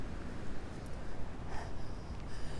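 Quick snuffling sniffs and soft snorts up close, irregular bursts of nasal breathing against a noisy background.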